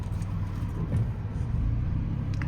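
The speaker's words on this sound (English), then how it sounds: "let's meanwhile just test how this car is in tight turns" A Mahindra XUV300 petrol AMT SUV drives through a tight U-turn, giving a steady low engine and road rumble heard from inside the cabin, with no voices.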